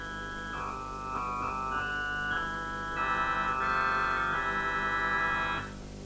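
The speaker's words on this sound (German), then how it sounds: "Aber hier kann man auch Töne synthetisch erzeugen durch Eingabe auf dem Bildschirm." A steady computer-synthesized electronic tone built from stacked additive harmonics, its upper partials stepping and shifting over a low drone, swelling louder midway before stopping.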